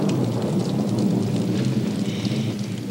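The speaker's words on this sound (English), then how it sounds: "Lightning and everything." A thunderstorm with lightning and rain gives a steady, dense hiss of rainfall mixed with low rumbling that holds throughout, without speech.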